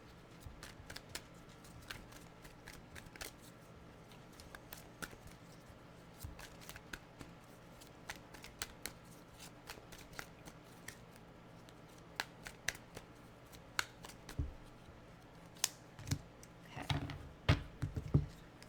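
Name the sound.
shuffling tarot cards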